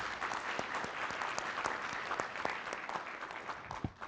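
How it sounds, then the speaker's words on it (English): Conference audience applauding after a session talk, steady dense clapping throughout with a few sharper individual claps standing out near the end. "But let's give him a round of applause."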